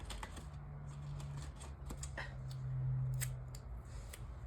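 A paper sticker being torn and peeled off a reading journal page, a string of short sharp crackly rips and snaps, close and fairly loud over a low steady hum.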